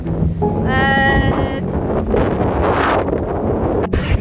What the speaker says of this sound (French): Ça fait un petit peu de vent aujourd'hui